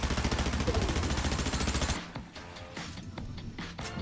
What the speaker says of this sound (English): As they charge up, it spins faster and faster to unload as many bullets as possible